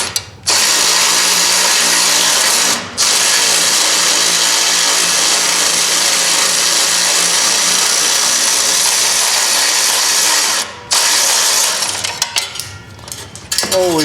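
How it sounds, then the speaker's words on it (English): A power tool drives a bolt while a spring is installed on a 2018 Polaris Sportsman 570 EPI ATV, its loud, steady whir running nearly nonstop with two brief pauses and a rattly stop-start near the end. "Always a way to use power tools."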